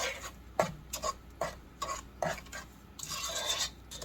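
A spoon scrapes and stirs a thick no-bake oatmeal cookie mixture in a pot, a series of close, uneven rasping strokes roughly every half second, with no talking.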